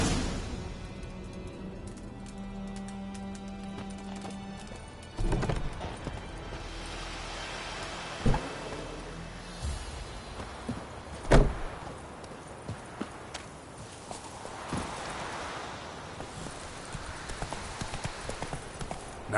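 Roach the horse from The Witcher 3 walks with steady hoof clip-clops on the ground, mid-distance and moderately loud, with a few sharper louder hoof strikes scattered through an ambient game background.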